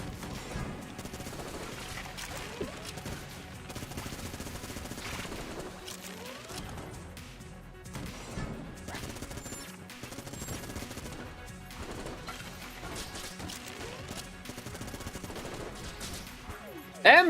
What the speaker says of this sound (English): That was a bad sniper shot right there.